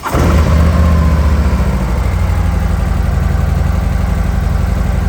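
A 2023 Harley-Davidson CVO motorcycle engine cranks and fires, then settles into a loud, close, lumpy idle with a deep steady throb.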